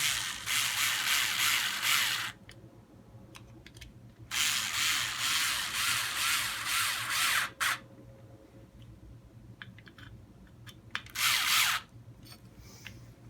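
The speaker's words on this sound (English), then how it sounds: "once you get both those screws started, we can screw them down." A power driver whirs in three bursts of two to three seconds as it runs screws down into a battery tray on an RC 4x4 crawler, with faint clicks and handling noises in the pauses between.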